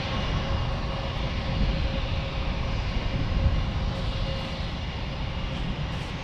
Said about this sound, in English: Here comes Southwest from Phoenix.